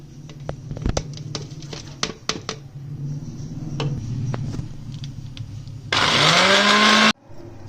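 A kitchen grinder works on green chilli, ginger and garlic. Scattered taps and clatter come first, then a loud, high electric whir for about a second that stops abruptly.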